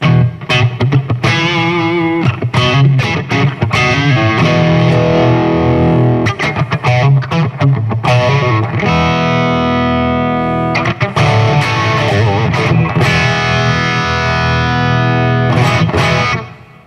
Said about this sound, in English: Let me turn the distortion box back on.